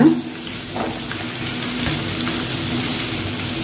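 Onion and garlic sauté in a pan with a steady close sizzle, opening with a short clink of utensil against the pan.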